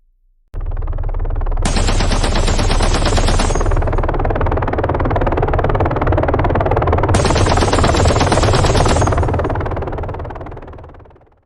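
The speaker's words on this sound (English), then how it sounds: "Gunfire seems to be coming from everywhere." Loud, sustained machine-gun fire, rapid continuous bursts with sharper rattling volleys layered in, fading out at the end.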